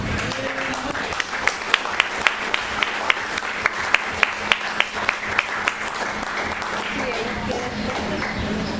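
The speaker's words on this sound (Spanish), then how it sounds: "le des un gran aplauso a Jesucristo" A standing church congregation applauds at an evangelistic service, a broad wash of clapping with sharp individual claps punctuating it steadily, while a voice continues faintly underneath.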